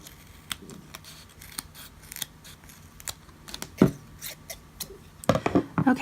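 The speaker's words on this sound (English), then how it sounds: "So I'm going to grab some scissors." Scissors cutting press-on nails shorter during a manicure: scattered sharp snips with handling clicks between them, then a dense flurry of louder, close cuts near the end, with no talk.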